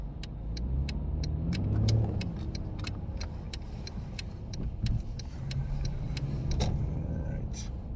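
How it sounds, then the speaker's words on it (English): Busy road traffic outside during the holiday rush, cars rumbling and swishing past in a continuous low drone with a couple of nearer swells, while a regular ticking click repeats throughout. "Sorry, we got some crazy traffic here."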